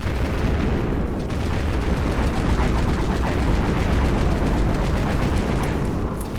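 The exploder weapon in Dead Frontier fires in a rapid, continuous stream of loud, crackling bursts, a dense barrage that hardly lets up.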